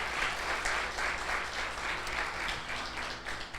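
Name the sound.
congregation applause in church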